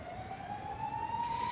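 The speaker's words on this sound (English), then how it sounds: "Sorry about the ambulance, they do this." An ambulance siren sounds loud and steady, its wailing tone sliding slowly upward as the vehicle passes close by over background traffic rumble.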